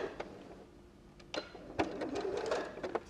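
Sewing machine stitching down the long edge of fabric for a dog bow tie collar, quiet short bursts of mechanical clatter with brief pauses between.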